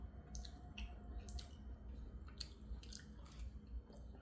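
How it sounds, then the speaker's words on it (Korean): Close, wet chewing of a GS25 convenience-store lunchbox of spicy pork with green onion, soft squishy bites and smacking repeating in an irregular rhythm over a low steady background, with no talking. "대파 불제육을 또 먹어보겠습니다"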